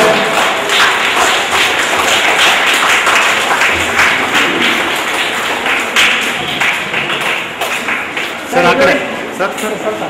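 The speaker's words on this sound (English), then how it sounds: "a small round of applause for them." Audience applause for the judges at a school event, a dense steady patter of clapping with occasional thumps, continuous throughout, with a voice briefly over it.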